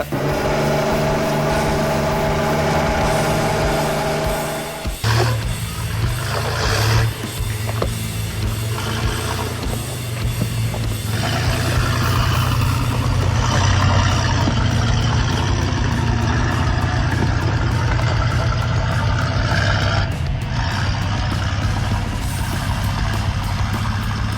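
A turbocharged International Scout 800 engine idles steadily nearby, a continuous low rumble with a brief dip in level before settling back into a constant drone.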